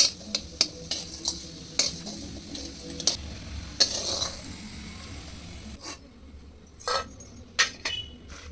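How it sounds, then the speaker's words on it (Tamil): Lumps of asafoetida fry in sesame oil in an iron kadai for idli podi, with clinks and taps of a spoon against the pan over a faint background sizzle, irregular and close, with no talk. "அந்த நல்லெண்ணெய் ஒரு ஸ்பூன் ஊற்றிட்டு இல்லை கட்டி பெருங்காயம் போட்டு நல்லா வறுத்துக்கோங்க"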